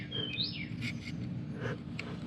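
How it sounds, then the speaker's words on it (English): A bird perched on an outdoor chair near a dish of dog food gives a few short, rising chirps on a humid night. The calls are fairly close and stand out over a soft, steady background hum. "There's a bird sitting over here on my chair."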